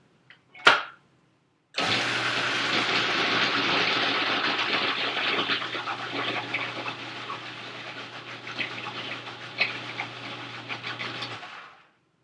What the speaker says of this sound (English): I'm just going to put the top on my food processor, and I will pulse it to start the pureeing